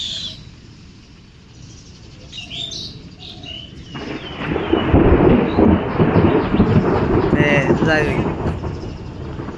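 Thunder rumbles in a heavy monsoon downpour over a flooded local road, a deep low roll swelling in after a quiet start and rolling on loudly through the rest, with faint bird chirps above.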